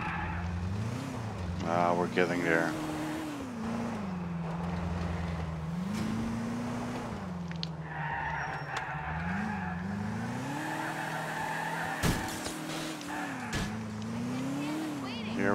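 Car engine in GTA IV revving and shifting pitch steadily through the scene, with brief tire skids and impacts near the end, under ongoing talk.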